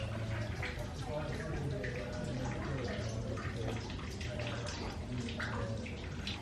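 Water trickles and splashes deep inside an old stone well in St Mawes, Cornwall, faint and echoing beneath people talking nearby.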